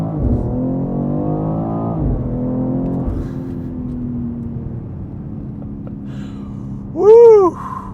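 A BMW X3 M pulls hard under acceleration, its engine note boosted by synthetic sound played through the cabin speakers. The tone climbs steadily and shifts through gears, with a brief louder burst near the end.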